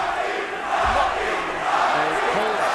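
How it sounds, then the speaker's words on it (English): Boxing arena crowd at a Lomachenko vs Martinez fight chanting "Rocky" in unison, a dense roar of many voices with rhythmic swells rising and falling throughout. "he pulls Rocky down as the crowd starts chanting Rocky"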